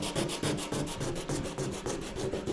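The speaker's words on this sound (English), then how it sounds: "So just keep sanding, keep moving around" Rhythmic back-and-forth hand sanding of a fiberglass surfboard repair, strokes repeating about every quarter second, close and steady with no talking.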